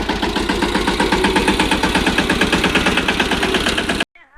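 A loaded tractor's engine runs loud and close for about four seconds, a steady rhythmic pulsing chug, then cuts off abruptly.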